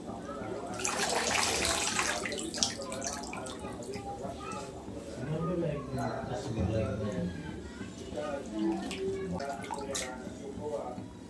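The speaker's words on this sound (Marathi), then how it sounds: "गरम पाणी करून घेतलेलं आहे गरम पाणी टाकायचं" Hot water is poured into simmering masoor dal in a pot, a soft splashing pour heard under someone talking steadily throughout.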